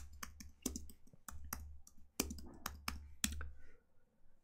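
Quiet computer keyboard typing, a quick irregular run of soft key clicks over a low steady hum, near and without speech.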